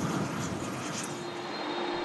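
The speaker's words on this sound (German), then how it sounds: "Beluga Nummer 2 im Landeanflug." Airbus Beluga cargo aircraft on landing approach, a faint, distant, steady broadband engine roar and rushing air, with no talk.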